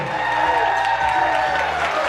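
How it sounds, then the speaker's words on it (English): Wedding reception guests applaud the bridal party in a sustained, dense wash of clapping with some cheering mixed in, while steady background tones hum underneath. "one more big round of applause for our entire bridal party"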